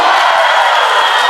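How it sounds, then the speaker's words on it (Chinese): An audience at a 2021 Kaohsiung concert screams and cheers for the singer in one loud, sustained wall of crowd noise that holds steady without a break. "尖叫声。"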